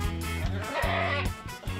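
An Etawa goat in its pen bleats repeatedly in a series of close, loud, wavering cries, one after another with almost no gaps.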